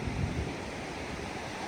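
Night surf on a beach at Vizag, a steady near roar of breaking waves mixed with wind noise, low and constant.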